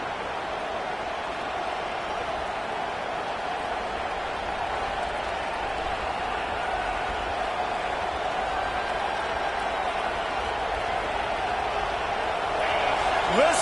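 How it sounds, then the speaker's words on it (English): A large college football stadium crowd at Alabama versus Texas A&M roars steadily throughout, a dense continuous wall of cheering that swells slightly louder near the end. "Listen to this crowd just shaking the girders of this place, trying to help their defense."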